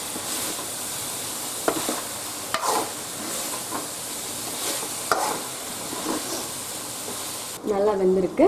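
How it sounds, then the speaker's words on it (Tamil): Pepper chicken kurma sizzling and frying in a pan as it is stirred, a steady close hiss with scraping spoon strokes; a louder, brighter burst of bubbling near the end. "நம்ம இன்னொரு தடவை கிளறி விட்டுக்கிறோம்"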